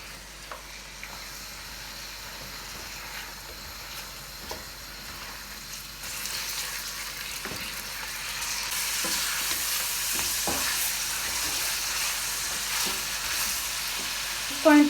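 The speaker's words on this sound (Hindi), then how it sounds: "इस पॉइंट पर अब हम ये जो हमारे पास गोश्त है इसको ऐड कर देंगे।" Goat meat drops into onions already sizzling in a pan for achari gosht, then frying steadily with a bright hiss and occasional scrapes and knocks of stirring, growing louder and denser toward the end.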